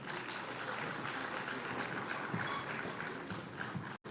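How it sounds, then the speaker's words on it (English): Applause from a trade and investment conference audience, a steady, moderately faint wash of many hands clapping that carries on without a break, with a brief dropout just before it ends. "Let's please give them another round of applause"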